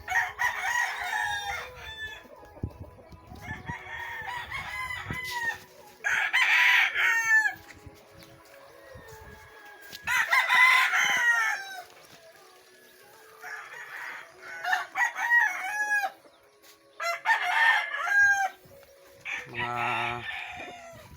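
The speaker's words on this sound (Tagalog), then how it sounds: "panabong na manok" Several fighting roosters crow one after another, some near and some farther off, with scattered clucking and faint background noise between the calls.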